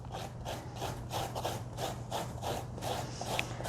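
Fresh ginger scraped over a fine rasp grater in a kitchen, producing steady rhythmic rasping strokes about twice a second, close and alone.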